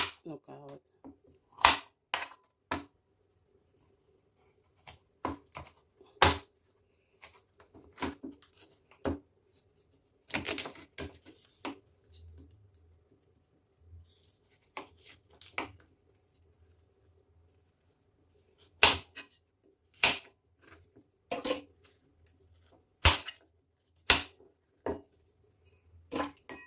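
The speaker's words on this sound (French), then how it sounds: "On va maintenant aller couper nos carottes." Carrots being cut on a board for boeuf bourguignon give sparse, sharp knife taps at an irregular pace, close and fairly quiet, with a voice speaking at times between them.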